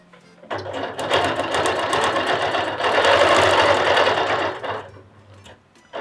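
A sewing machine stitches a quilt with ruler guidance, a steady, loud, close mechanical whir that runs almost continuously for several seconds before stopping near the end.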